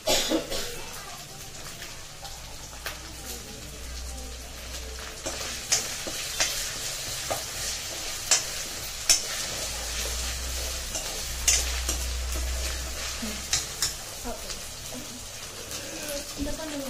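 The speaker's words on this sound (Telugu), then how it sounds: "ఇప్పుడు కరివేపాకు పాప్ అవుతా ఉంటుంది కదా" Curry leaves fry in hot oil for chicken biryani, a steady sizzle with scattered sharp pops and crackles throughout, close by, with occasional stirring sounds.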